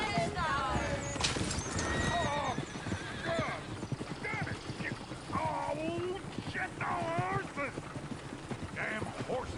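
Horse hooves clip-clop with repeated whinnies and squeals in a Red Dead Redemption 2 game scene on PS5, a restless horse kicking and hollering nearby, steady and loud throughout with some speech-like voices mixed in.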